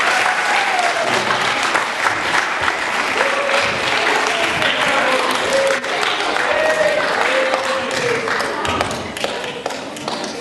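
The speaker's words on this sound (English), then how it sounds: "Give a round of applause, guys." Sustained applause from an audience, dense clapping that fills the whole stretch, with faint voices mixed underneath.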